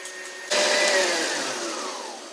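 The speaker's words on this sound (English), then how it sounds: "We'll start by stiffly beating the 6 egg whites." An electric hand mixer whirs on loudly and continuously, beating six egg whites stiff for a quiche, a close, steady motor drone starting abruptly and holding with a slight fade.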